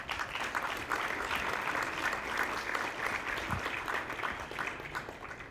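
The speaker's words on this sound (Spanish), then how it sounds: "Un aplauso, por favor." An audience at a logistics panel discussion in Mexico applauds a panelist being introduced, a steady, even patter of many hands held at moderate volume for several seconds with no talk over it.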